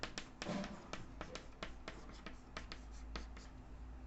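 Chalk or marker strokes on a classroom board during a calculus lesson, a quick series of close, crisp taps and scratches in an irregular rhythm with no talk.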